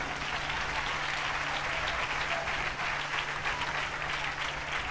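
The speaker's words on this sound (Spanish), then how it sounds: "Denle ese aplauso fuerte al Señor." A church congregation gives a loud, continuous round of applause at a religious gathering, a steady dense clapping with a faint low hum underneath.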